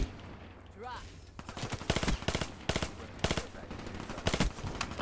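Bursts of automatic fire from the XMC gun in Black Ops 4, several loud rapid strings of shots in quick succession after a quieter opening, close and punchy.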